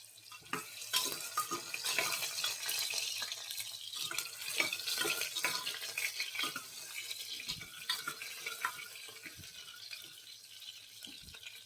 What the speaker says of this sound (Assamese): এয়া তেল গৰম হৈছে। এতিয়া আলুখিনি ফ্ৰাই কৰি ল'ম।